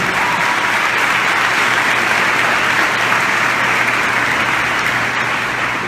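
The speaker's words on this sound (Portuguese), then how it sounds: "a gente quer dar um aplauso a Jesus bem forte para você" Loud, sustained applause from a church congregation at a Sunday service, steady and dense for several seconds with no pauses.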